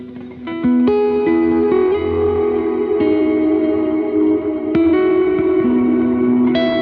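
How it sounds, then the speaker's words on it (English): Plucked guitar notes ring out, each one echoing in repeating delays that wash into a spacious reverb tail. "your delay repeats have reverb on them"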